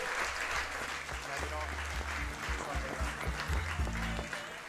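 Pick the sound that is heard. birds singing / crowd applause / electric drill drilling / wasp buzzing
crowd applause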